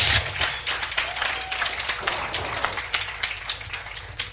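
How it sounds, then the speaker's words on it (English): Audience members at an urban health lecture applaud after an inspirational speech, a dense patter of many hands clapping at moderate volume that fades slightly toward the end. "how about another round of applause for an inspirational speech?"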